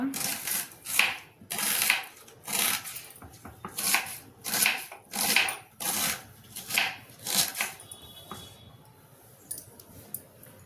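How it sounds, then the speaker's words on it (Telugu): A knife chops onions in a home kitchen with a regular series of crisp cuts, roughly every half second or so, close and fairly loud, tapering off near the end. "ఇప్పుడు ఉల్లిపాయలు టమాటాలు కోసుకుందాం."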